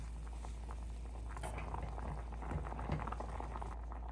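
Rice at a rolling boil in a pot on the stove, a steady dense bubbling and popping with a constant low hiss underneath, close and moderately quiet, no talking.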